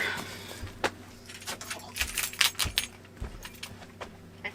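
A set of keys jangles in uneven metallic bursts of clinking and rattling, close and fairly quiet, with short pauses between handlings.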